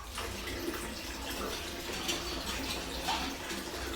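Water pours steadily at home during a children's fasting day, a soft continuous splashing rush heard close and fairly quiet, with no talk.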